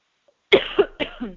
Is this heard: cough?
yes